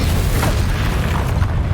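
Explosive spells go off in Hogwarts Legacy on PS5 as heavy, rumbling booms with a bursting low-end punch, loud and continuous across the short stretch.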